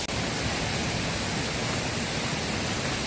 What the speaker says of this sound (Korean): 흑석 계곡 물수량만큼은 최고인 것 같습니다.